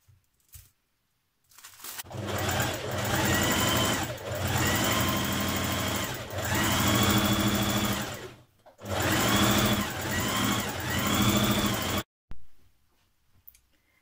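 Sewing machine running a long straight stitch along the edge of a jumpsuit bodice, in three sustained motor bursts separated by short pauses, loud and close with no talking.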